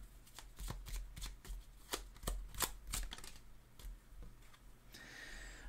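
Tarot cards being shuffled and drawn, a quiet run of soft, irregular flicking and riffling snaps close by for several seconds, ending in a faint rustle.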